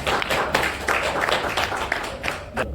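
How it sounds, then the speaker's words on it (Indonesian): Audience applause for a presenter at a coral restoration talk, a steady dense wash of many hands clapping that runs evenly for the whole stretch with no voices on top. "tepuk tangan untuk Bang Fadli ya"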